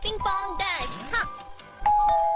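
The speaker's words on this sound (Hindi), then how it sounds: "हमारे घर भी घंटी बजाने आ गया" A cartoon doorbell gives a ding-dong chime in an animated Hindi-dubbed comedy episode, rung repeatedly with short bright tones mixed among voices and other effects.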